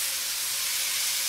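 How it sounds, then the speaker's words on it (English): A chicken and broccoli stir-fry with sauce steams in a pan, giving a steady, even hiss that holds throughout at moderate volume, with no speech. "And then, great, let's let it steam."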